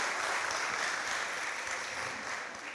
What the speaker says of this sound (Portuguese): Palmas para o Carlos, por favor